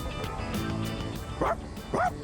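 Koromaru the dog from the video game Persona 3 Reload gives two short yips or barks near the end, close and clear over continuous background game music.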